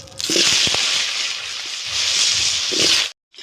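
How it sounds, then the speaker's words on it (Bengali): Potatoes fry in hot oil already seasoned with dried red chillies, bay leaves and cumin, producing a loud, close, hissing sizzle that swells twice with a few crackles before cutting off abruptly near the end; no one speaks. "আমি এখন আলু ভেজে নেব"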